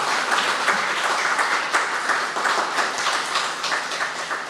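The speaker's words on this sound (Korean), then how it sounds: "자, 박수 한번 하시죠." A church congregation at a Sunday worship service claps in a steady, full round of applause, dense and fairly close, holding at an even level for several seconds without speech.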